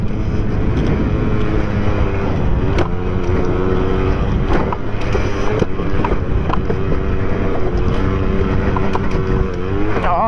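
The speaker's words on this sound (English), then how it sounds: "this little bike's running a flipping dream right now" A small moped engine buzzes steadily at high revs through a lap of a four-hour charity enduro race, loud and close, with constant rough drone and slight pitch changes as the bike speeds up and slows.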